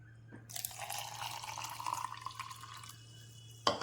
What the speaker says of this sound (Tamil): நான் ஒரு டம்ளர் பசும்பால் ஊற்றுறேன்